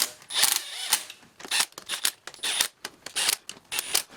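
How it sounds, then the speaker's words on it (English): A cordless drill runs down cylinder head bolts in a string of short, whirring, ratcheting bursts separated by brief pauses, close and fairly loud. "I'm going to go ahead and run it lightly down with the cordless"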